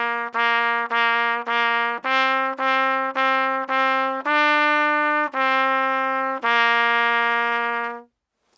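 Hot Cross Buns on trumpet, this time tongued, with each bright note starting crisply and cleanly in an even row of about a dozen distinct notes, played close and alone.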